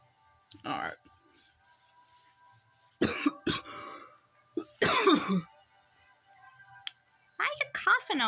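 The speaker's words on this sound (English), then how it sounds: "Why are you coughing over there?" A person coughs and clears their throat in several short, sharp bursts spread apart by quiet gaps, close to the listener, with some faint clicking between them.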